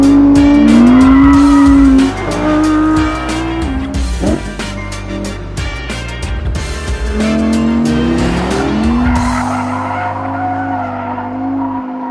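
An Audi R8 GT is driven hard on a race track, its loud engine rising and falling through gears as the tires squeal and skid through corners, heard up close with the car easing off near the end.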